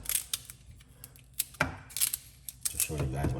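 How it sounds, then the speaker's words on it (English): Knife chopping fresh celery on a cutting board in a home kitchen, a few crisp irregular cuts and taps, fairly close, with faint handling noise between. "let's cut up some celery"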